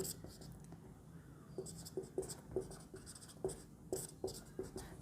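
Chalk or marker writing on a board in a chemistry lecture, a steady run of short scratchy strokes at close range, with faint voice in the background.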